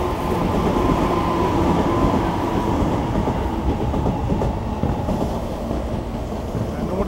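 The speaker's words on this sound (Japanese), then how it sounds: "横浜線の電車が通ります。" A Yokohama Line train rumbles steadily past at close range, a dense continuous roar with faint clattering wheels, loud throughout.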